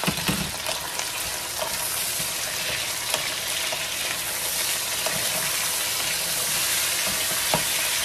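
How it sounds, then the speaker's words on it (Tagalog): Chicken wings fry with ginger in a hot pan, making a loud, continuous close sizzle with faint stirring clicks and no voices. "Ilalagay ko na ngayon yung chicken wings para mabutan nila siya"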